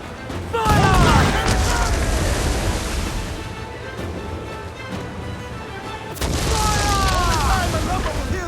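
Ship cannons boom in a naval battle in Assassin's Creed IV Black Flag, with heavy, rumbling blasts over a roar of sea and battle noise, two surges of firing a few seconds apart, and shouted voices mixed in.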